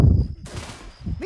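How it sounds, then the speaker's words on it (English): Gunfire rings out in the zombie shooter Left 4 Dead 2, one sharp burst of shots with a sustained ringing tail, preceded by low rumbling game ambience. "Nice shooting."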